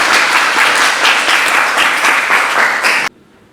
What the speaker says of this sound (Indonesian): tepuk tangan dulu untuk persepsinya